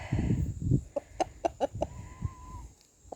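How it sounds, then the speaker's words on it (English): Several backyard hens cluck in short, separate bursts, close by, with a faint steady hum behind them and a brief higher whistle-like tone near the end. "Good chooks."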